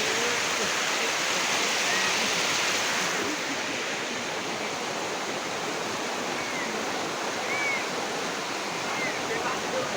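River water rushes in a steady, loud, unbroken wash of noise for the full stretch, close by and constant in level, with no clear pauses or changes.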